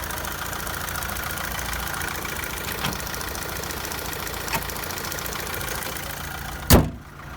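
A 2011 Opel Astra engine idles steadily nearby with an even mechanical hum, broken near the end by a single sharp thud.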